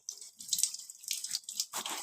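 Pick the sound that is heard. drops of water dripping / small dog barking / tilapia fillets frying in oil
drops of water dripping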